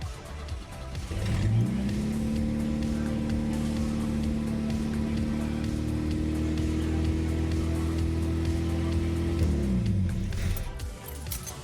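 A 1985 Pontiac Fiero SE engine cranks and catches on its first start after a rebuild, then runs loud and steady with a rough rumbling idle for several seconds before winding down.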